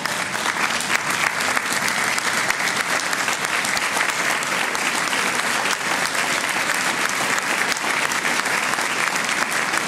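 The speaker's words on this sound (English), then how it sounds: "give those families a well-deserved round of applause" Sustained, dense applause from a large audience at a college conferring ceremony, with graduates clapping for their families, steady and loud for about ten seconds.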